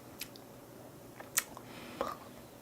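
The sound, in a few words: crunchy chewing of dark-roasted coffee beans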